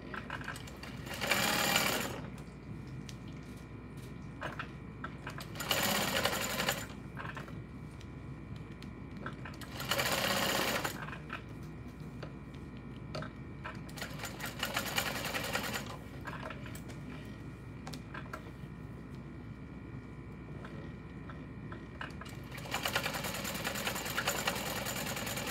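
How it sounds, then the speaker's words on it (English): A sewing machine top-stitches down the long sides of fabric connectors for a bowler bag, running in several loud rapid bursts a few seconds long, separated by quieter pauses with faint handling noise. "I'm just going to top stitch down the long sides of these connectors"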